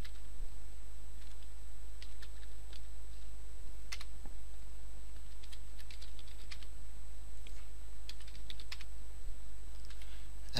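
A command entered on a computer keyboard in a Windows console, scattered bursts of light key clicks separated by pauses, faint and close over a steady low electrical hum.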